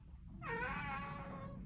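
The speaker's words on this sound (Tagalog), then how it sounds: "Gusto ko yung pinaka nakakaawa mong meow." A cat lets out one long, drawn-out, plaintive meow, close and clear against a quiet room, with no talking.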